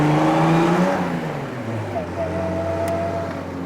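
A pre-war race car's engine revs while driving, its pitch rising and dropping as the throttle changes, loud and close with a steady mechanical drone and a voice talking over it.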